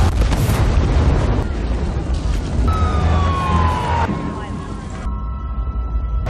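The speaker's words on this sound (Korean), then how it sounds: "폭발을 피해 몸을 숨기는 코슬로" A loud movie explosion booms with dense low rumble and debris noise throughout, mixed with a wailing siren and score, while voices talk over the chaotic action.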